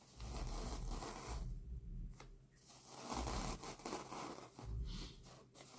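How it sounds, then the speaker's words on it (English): Rough, scratchy hands rubbing together up close, giving bursts of dry, sandpapery scraping with short pauses between strokes. "Listen to how scratchy my hands are."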